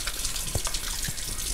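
Water runs steadily from a tap, a continuous broad hiss of flowing water with no voices.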